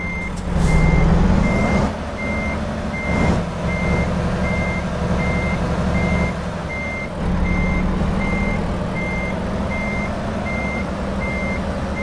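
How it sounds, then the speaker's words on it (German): Truck reversing beeps from a rig backing into a parking spot in American Truck Simulator: a steady, evenly spaced beep repeats throughout over a loud, constant diesel engine drone, with no talking. "Wenn alle LKW-Fahrer bei uns so rückwärts einparken könnten"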